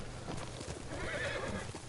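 A horse whinnies in a video game while hooves clatter in a quick galloping rhythm beneath it, fairly quiet and heard alone.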